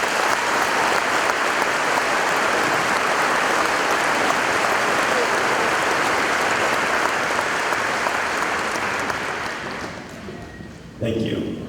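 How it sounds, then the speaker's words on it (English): An audience at a high school commencement gives sustained, loud applause that holds steady for about ten seconds before fading out near the end. "Please give them a round of applause."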